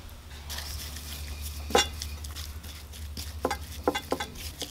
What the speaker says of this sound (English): Mix that really well.